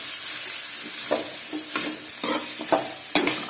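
Chili powder is stirred and fried in a pan while making chicken curry, giving a steady hissing sizzle broken by soft scraping strokes of a spoon every half second or so, close and moderately loud with no talking.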